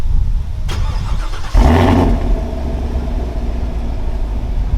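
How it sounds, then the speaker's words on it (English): A car with stock exhaust starting by remote: a sharp click, then the engine cranks and catches with a loud, deep rumble that settles into a steady idle close by. "I'm gonna record the last remote start with the stock exhaust"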